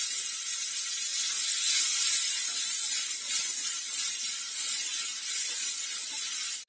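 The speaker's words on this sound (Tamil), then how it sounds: "பூண்டு வதக்கிட்டு இப்போ இன்னும் ஒரு 10 இலை புதினா" Fresh mint leaves sauté in a pan after garlic while groundnut chutney is being made. A loud, steady, hissing sizzle holds evenly, then cuts off abruptly at the end.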